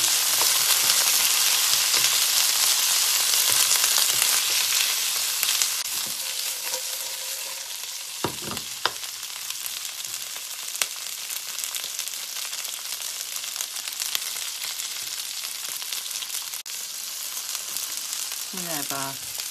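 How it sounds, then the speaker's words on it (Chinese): Green beans tossed into a hot wok for a stir-fry (dry-fried style) sizzle loudly and steadily, the frying hiss easing a little after a few seconds, with occasional stirring clinks of a spatula against the pan. "现在炒出香味，把四季豆放进去"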